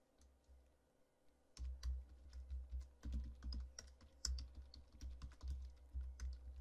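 Someone types code on a computer keyboard. Fast, irregular clatter of close key clicks follows a quiet start.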